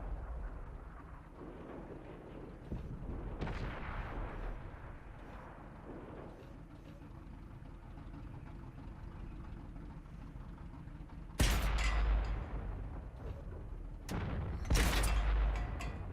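World of Tanks cannon fire from a KB85 shooting premium rounds, heavy booming blasts with a rumbling spread-out background, a couple of loud, sharp shots standing out near the end.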